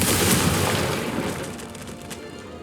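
A Confringo fire spell exploding in the Hogwarts Legacy video game: a broad, rumbling blast that starts loud and slowly fades away over a few seconds, alone without speech.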